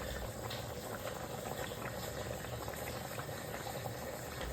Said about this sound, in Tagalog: Pakuluan lang natin ng ilang minuto guys.